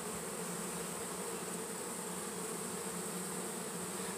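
A dense, steady buzz of many honeybees inside a hive box, close and continuous, with no voices.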